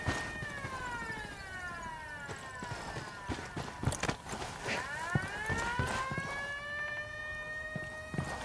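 An alarm wails in Ghost Recon Wildlands with long rising and falling siren sweeps that repeat steadily, overlapping one another amid scattered sharp bangs of gunfire.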